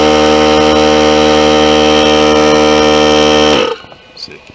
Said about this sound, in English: Let's turn the compressor on.